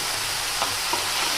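Bottle gourd greens fry in a pan with ridge gourd and eggplant, giving a constant, dense sizzle with a couple of faint stirring taps.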